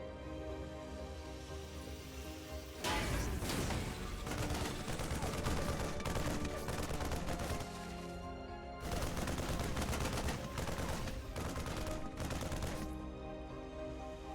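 Marines opening fire in a StarCraft 2 ZvT match, with two long stretches of steady rapid gunfire, loud and continuous, over a constant bed of game sound and background commentary.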